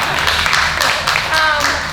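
Round of applause at a signing day ceremony at Parkland College, a crowd clapping densely and continuously for a couple of seconds with some voices mixed in.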